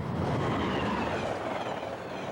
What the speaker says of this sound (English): on the Japanese bullet train, we're traveling south